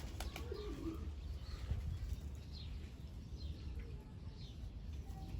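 Ala pigeons coo softly and repeatedly in a loft, low murmuring calls over a steady background hum, with a few faint chirps and brief wing sounds.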